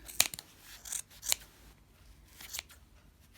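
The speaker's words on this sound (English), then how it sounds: "I'm going to cut all of these loops" Heavy-duty scissors snip through yarn loops on a pom-pom: a few sharp, crisp cuts spaced irregularly, close and fairly clear with quiet gaps between, no talking.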